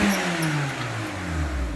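A Citroën Xsara with a TU5 JP4 engine and a blown head gasket revs briefly, its pitch sliding downward as the engine falls back, close and fairly loud with no talk over it.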